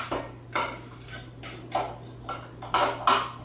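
Spoon scraping and knocking against a food processor bowl while scooping chopped carrots, garlic and onions into rice, giving a string of short, close clinks and scrapes with a steady low hum underneath.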